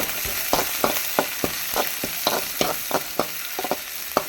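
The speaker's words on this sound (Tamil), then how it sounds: "நல்லா வதங்கட்டும்" Onions and chilies sauté in a pan with a steady, close sizzle, broken by a regular series of sharp spoon-against-pan scrapes as they are stirred, with no talking.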